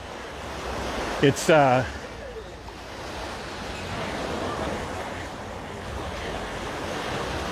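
Ocean waves at high tide on Waikiki Beach wash in as a steady, broad roar, with a brief burst of speech near the start.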